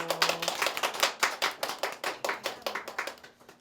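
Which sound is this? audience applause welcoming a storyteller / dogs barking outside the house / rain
audience applause welcoming a storyteller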